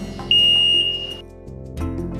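The handlebar buzzer on an Afiscooter S dual-seat canopy mobility scooter gives a single sharp, high electronic beep lasting about a second over a low background hum.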